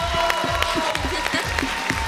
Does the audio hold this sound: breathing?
no